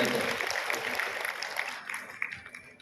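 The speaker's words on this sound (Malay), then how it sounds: "Satu tepukan yang gemuruh untuk Yang Berhormat Datuk." Hall audience at a Malaysian TVET career outreach event applauding the deputy human resources minister, a thick burst of clapping that thins and fades over three seconds.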